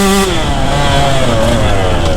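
A KTM 150 enduro two-stroke motorcycle rides along flowy dirt trails, its engine buzzing loud and close with a steady, slightly rising whine that holds through the whole moment.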